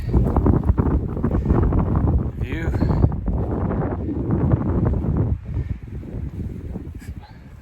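Heavy wind roars and buffets the microphone at an exposed campsite on the Pacific Crest Trail while a person speaks briefly under the gusts.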